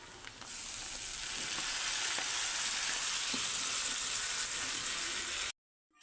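Steady, loud sizzle of a fried egg in a hot pan on low gas as cooked Sunfeast Yippee noodles go in, a continuous frying hiss with faint clinks, ending abruptly in silence.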